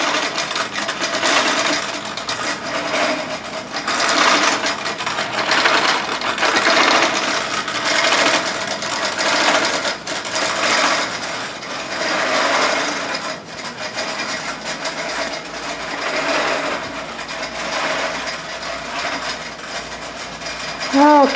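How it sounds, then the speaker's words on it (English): A quilting embroidery machine running the Quilt Magician system stitches out a butterfly design, giving a steady, continuous rhythmic whirr and chatter that lasts throughout at an even, fairly loud level. "We'll see if we can get some of these stitched out so you can watch it stitch."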